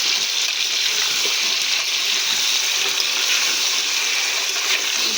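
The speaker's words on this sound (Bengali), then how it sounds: "দিয়ে এটাকে খুব সুন্দরভাবে ভেজে নেব।" Turmeric and chili powder fry in oil for a taro and beef curry, giving a loud, continuous close-up sizzle with no pauses.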